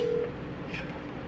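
Telephone dialing to place a call, a clear steady tone at the start, then faint background noise and a soft higher blip, fairly quiet and close.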